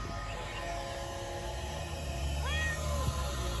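A sick street cat lets out one drawn-out meow over a steady low rumble of traffic or machinery in the background.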